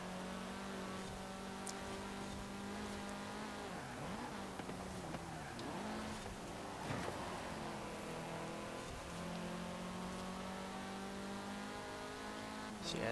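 An Audi TTS engine in Forza Horizon 4 drones continuously with revs rising and dipping through gear changes, a smooth all-wheel-drive racing note that stays steady from start to finish.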